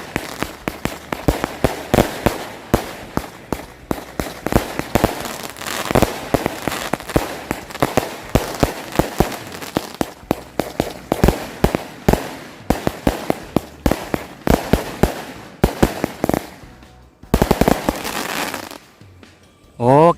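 A long run of Star Wars firecrackers pops in rapid, irregular bursts on Takbiran night, sharp cracks stacking up close by, then a brief pause before a final loud blast.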